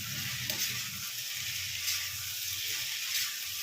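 Pasta sizzling in a pan with softened tomatoes, a dense, even frying hiss with low stirring scrapes underneath, close and steady, no talking.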